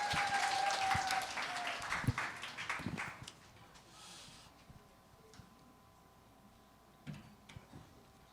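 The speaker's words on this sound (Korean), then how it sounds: "다시 한번 우리 두 분에게 큰 박수로" Applause from a youth church-service audience during a friends-invitation event, honoring two guests; a burst of clapping fills the first three seconds, then fades to a quiet room with scattered faint knocks.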